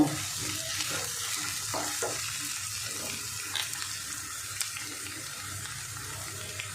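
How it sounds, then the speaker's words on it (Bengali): An egg mixture with onions fries in a pan, giving a steady sizzle broken by a few sharp clinks and scrapes from stirring. "এবার আমি মিশিয়ে দেব, মিশিয়ে পেঁয়াজের সঙ্গে আর একটু ভেজে নেব।"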